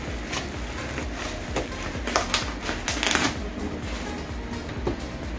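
Packaging of a Samsung S10 5G 1TB phone is torn and ripped open by hand, close crisp crackling and tearing bursts with several sharp louder rips in the middle.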